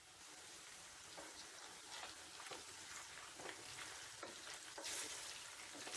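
Soft, steady sizzling of fish frying in oil for chilli garlic fish, with faint crackles and occasional stirring scrapes, quiet and close with no talking.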